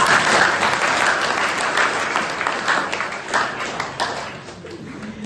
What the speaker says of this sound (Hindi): जब समझ में आया तो जोरदार तालियों से स्वागत कीजिए